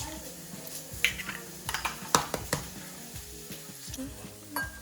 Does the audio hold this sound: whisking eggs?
yes